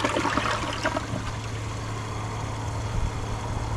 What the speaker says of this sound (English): Let's get a flush.